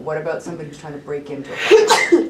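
A single sharp sneeze bursts out near the end of a conversation, following a stretch of steady talk from nearby voices and standing out louder than the speech around it.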